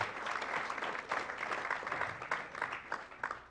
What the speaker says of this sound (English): So round of applause for both those organizations.